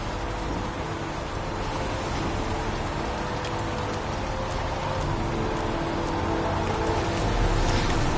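Steady rain pours down over an outdoor wasteland in the game Heavy Rain, a constant dense hiss that holds evenly throughout with no talking.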